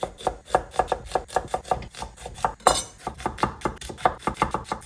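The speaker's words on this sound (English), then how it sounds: "this basically is a total of 1 kilo of onions and I'm just going to thinly slice and then slow fry them" A knife thinly slices onions on a wooden board, with quick, regular chops in an even rhythm and one sharper clack midway.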